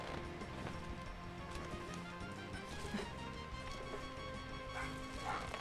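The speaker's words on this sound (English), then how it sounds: "my puppy is being loud" A puppy barks indoors, yips breaking out over dense, busy game music and sound effects that run without a pause.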